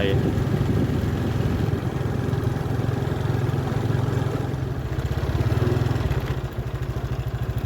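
Farm tractor engine running in a Lao village near the Mekong, a steady chugging low rumble with rapid rhythmic pulsing throughout, fairly close and loud, with people talking over it.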